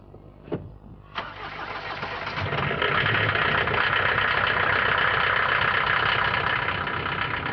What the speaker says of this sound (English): if you go for the diesel version, as we've got here, your neighbours won't think you're the funniest person in the world when you start it up